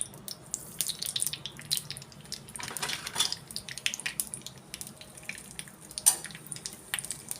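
Mustard and cumin seeds spluttering in a small spoonful of hot ghee, a rapid scatter of sharp little pops and crackles over a quiet background.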